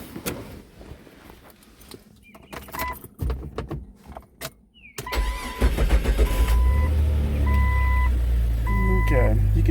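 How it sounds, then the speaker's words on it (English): A Jeep 4.0 engine cranks and catches after keys jangle, then idles steadily and loudly close by, with chime tones sounding over the running engine. "I'm going to start the engine and let's take a look at it first."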